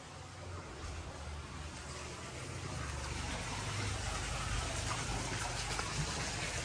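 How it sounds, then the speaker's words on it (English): A water fountain in a guest house near the ocean in San Juan del Sur, Nicaragua, runs with a steady, soft gushing and splashing that swells slightly, with no talk. "we got another water fountain here, which is really cool"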